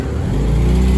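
A Lancia Delta Integrale rally car's engine roars loud and near, a sustained heavy rumble that builds slightly as the revs climb.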